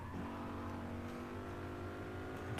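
A car engine in the racing video game Gear Club Unlimited 2 drones steadily at high revs, a continuous buzzing whine held throughout the clip with no talk.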